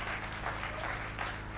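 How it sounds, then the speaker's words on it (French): A church congregation applauding, a continuous dense patter of clapping heard over a low hum, steady for the short stretch with no pause. "Applaudissez très fort."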